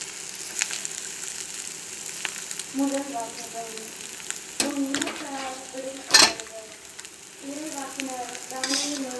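Food fries in hot oil in a pan while being stirred, a soft continuous sizzle with scraping utensil strokes and an occasional louder clatter. A voice talks intermittently over the cooking.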